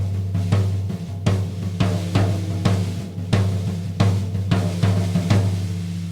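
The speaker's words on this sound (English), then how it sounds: "Mr. Snare Drum's rattling away there" A snare drum rattles away in a surf-style groove with repeated sharp hits over a steady low bass tone, loud and continuous with no voices.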